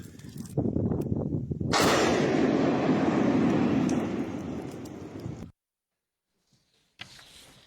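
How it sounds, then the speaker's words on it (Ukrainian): A deep, rumbling explosion in Kyiv erupts and roars loudly for several seconds before cutting off to silence, followed by a brief distant rustle. "Три, два, один. Вибух."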